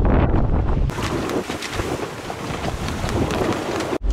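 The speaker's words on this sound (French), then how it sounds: "Vous entendez le vent?" Loud wind roaring and buffeting steadily aboard a sailboat at sea, with rushing gusts battering the microphone and no voices.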